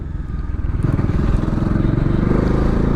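A Bajaj Dominar 400 motorcycle, a 2024 model, rides in third gear below 6000 rpm, its engine a steady, loud, close drone with a pulsing throb and wind rush throughout.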